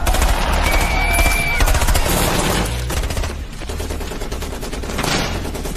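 Heavy gunfire from a war film between Somali and American forces: continuous rapid machine-gun bursts and shots, loud and dense, with faint shouting voices mixed in.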